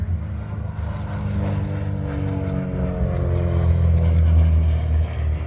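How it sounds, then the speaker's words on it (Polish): A propeller aircraft performs at an aviation picnic air show in Nowy Targ. The engine's droning hum holds steady and grows slightly louder as the plane passes, with its pitch shifting gradually. "Szymon Tomaszewski pokazujący możliwości samolotu PK."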